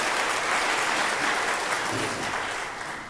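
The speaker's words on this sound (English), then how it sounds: "give her a round of applause" Applause from a crowd at a farm bureau candidate forum, a dense steady clatter of clapping that holds for a few seconds and then begins to fade.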